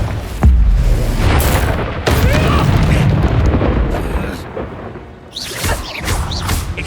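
A Confringo explosion spell in Hogwarts Legacy goes off with a sharp, heavy boom near the start, followed by crackling magical combat effects and further thuds, loud and close, with a voice calling out over it.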